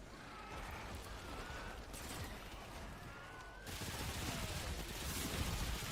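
Continuous battlefield gunfire in Warhammer 40,000: Space Marine II, a dense wash of overlapping shots and impacts that grows louder and harsher partway through, with no clear gaps.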